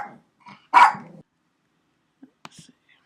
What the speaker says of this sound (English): I've got a dog barking.